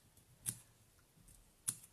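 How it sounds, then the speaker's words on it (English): Scissors snip a fringe into ribbon in two crisp, quiet cuts about a second apart, with near silence between them. "So I'm just going to cut a little fringe effect."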